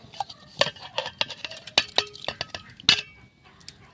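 Ground rice being stirred into milk for payesh, a spoon scraping and clinking against the metal pot in quick irregular strokes, close and fairly loud with no talking.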